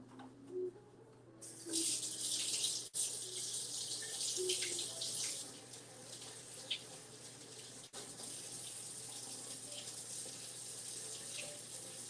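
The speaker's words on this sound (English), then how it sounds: "Let me wash my hands and clean up a little bit." A kitchen tap runs into a sink as hands are washed after breading goat cheese for frying, a steady close hiss of water with small splashes and shifts in flow, no talk.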